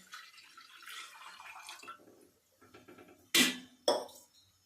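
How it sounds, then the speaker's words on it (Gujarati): Water splashing into a cooking pot while preparing crispy Chinese papad pockets, heard as two short, fairly loud bursts of pouring after a quieter stretch of faint kitchen sounds. "એ તપેલીમાં આપણે પાણી નાખી દઈશું।"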